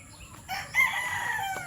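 A rooster crows once nearby among farmyard chickens, a loud drawn-out call rising over quiet background clucking, with no voices.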